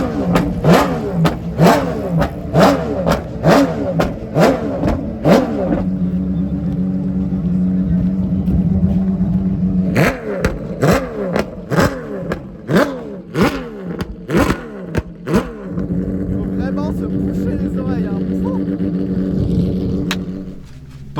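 A Porsche 959 revving hard while driving, with repeated sharp throttle blips and gear changes, loud and close, a steady cruising drone in between, and a voice briefly audible underneath.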